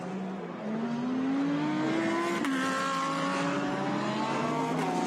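Ferrari and other GT race cars running nose to tail at Suzuka during a Blancpain GT World Challenge Asia race, engines rising in pitch through the gears as they pass close by, loud and continuous with no talk.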